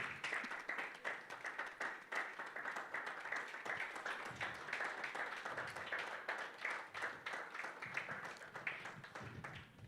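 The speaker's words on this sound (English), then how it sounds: "Clap for her till she comes on." Audience applause at a panel discussion on political and legal activism in East Africa, welcoming a speaker to the stage: steady, dense clapping from a crowd, sustained and fairly distant, continuing for about ten seconds with no talk over it.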